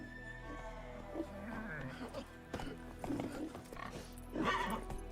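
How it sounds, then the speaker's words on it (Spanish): A horse in The Witcher 3, its hooves clip-clopping in an uneven rhythm with a brief whinny near the end, quiet and mixed with game sounds. "Vamos a coger el caballo."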